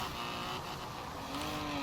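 The V10-swapped Datsun 240Z engine drones at a steady high pitch as the car drifts, heard close and loud without a break, with slight shifts in pitch and no talking.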